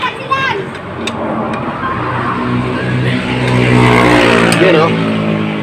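A Suzuki Smash 115 motorcycle after a piston and piston ring top overhaul, running with its exhaust refitted, a loud, close engine whose rumble builds as it revs, with someone talking over it.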